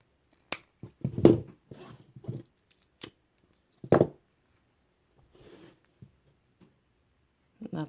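Scissors snip through the cord of a handmade kandi bead bracelet, giving a few sharp close clicks and small rustles of beads and handling spread across the moment, with no talking.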